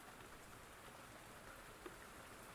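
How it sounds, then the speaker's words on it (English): Steady rain falls alone in a soft, even patter, faint and continuous throughout with no voices. "as the rain begins to fall"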